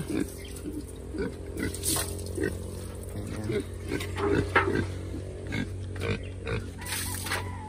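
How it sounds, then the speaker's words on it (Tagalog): A pig being bathed outdoors on a farm, with grunts and squeals over running, splashing water; a person talks intermittently nearby. "Nililiguan po yung isa. Isang baboy."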